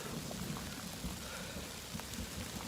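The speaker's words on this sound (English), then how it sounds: "you hear that lightning? I mean, that thunder." Steady rain pours on a pack cover and raincoat along a forest trail in Arkansas during a storm, with low rumbling thunder rolling underneath the constant close hiss of drops.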